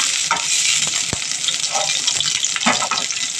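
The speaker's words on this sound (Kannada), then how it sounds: "ಎಣ್ಣೆ ಕಾದಿದೆ. ಹಸಿಮೆಣಸಿನ್ಕಾಯಿ ಹಾಕ್ತಾಯಿದ್ದಾಳೆ ನನ್ನ ಮಗಳು." Green chillies dropped into hot oil for a drumstick-leaf sambar: close, crackling sizzle with bursts of popping and a couple of sharp clinks over a brief span.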